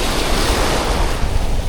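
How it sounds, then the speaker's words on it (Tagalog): Ocean waves on a seashore, a loud, steady rush of surf mixed with gusting wind buffeting the microphone, continuous and close, with no talk. "Gawa ng alon"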